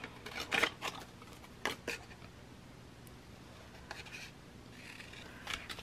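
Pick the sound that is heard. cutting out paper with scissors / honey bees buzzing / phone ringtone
cutting out paper with scissors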